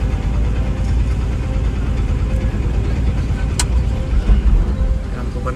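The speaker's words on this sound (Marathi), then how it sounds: "टेम्पो बंद करून टाकतो." A tempo goods vehicle's engine runs steadily with a loud, continuous low rumble that stays close and unchanging throughout.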